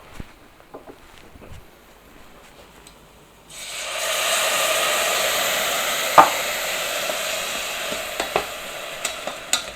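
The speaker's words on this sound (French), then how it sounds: "Donc là on va pouvoir déglacer au vin blanc." White wine is poured into a risotto pan for deglazing and bursts into a loud, steady hiss of sizzling that fills the rest of the clip, with a few sharp clicks and scrapes of stirring, after a quiet start with light tapping.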